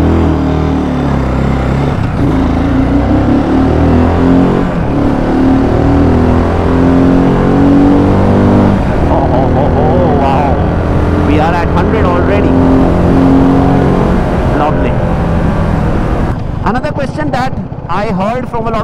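A BSA Gold Star 650 single-cylinder motorcycle accelerating hard on an open road, its loud, steady engine note rising and shifting through gears with continuous wind roar throughout.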